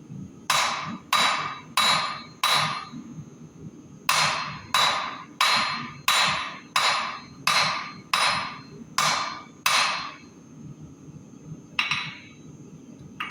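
Hammer blows flattening a steel knife blank on an anvil during a bladesmithing session, a run of sharp ringing strikes in a steady rhythm, brief pause, then more evenly spaced blows and a couple of lighter taps, close and loud.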